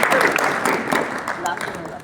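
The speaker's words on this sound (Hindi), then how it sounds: "बहुत तालियां तो बजाओ" Audience applause at an Arya Samaj Republic Day program, a short burst of dense clapping from a crowd, with a voice talking over it.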